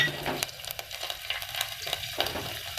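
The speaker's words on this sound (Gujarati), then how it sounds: "આ લસણની કટકી છે લસણની કટકી એડ કરી દેવાની છે આ રીતે તેલમાં" Chopped garlic pieces sizzle and fry in hot oil with a little asafoetida over a low flame, a steady close crackle with scattered sharper pops and no talking.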